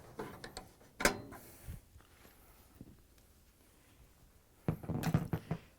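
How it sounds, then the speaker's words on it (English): A socket wrench tightens a fastener on a Whirlpool dryer during blower wheel replacement, giving short bursts of ratcheting clicks and metallic clatter, fairly close and quiet, separated by pauses. "Now we're going to use this socket wrench again, and I'm going to tighten it"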